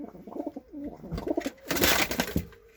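Pigeons in a loft coo in low, rolling bursts, several throaty calls close by, followed by a brief rustle or flutter of movement near the end.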